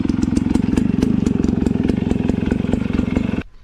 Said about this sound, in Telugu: సేమ్ అదే ఎగ్జాస్ట్ నోటే నేను కావాలనే చేంజ్ చేయలేదు